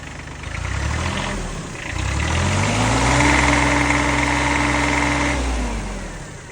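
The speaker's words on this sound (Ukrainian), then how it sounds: "Отак повинен працювати трактор" A diesel tractor engine with a side-mounted cylinder idles at a steady, even chug, close by and fairly loud, with a slight rise in pitch midway before settling back.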